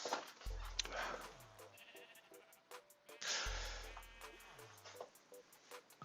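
Sheep bleating on a sheep farm in a video game, several short bleats over steady game background music with a repeating beat, two louder bleat passages at the start and around the middle.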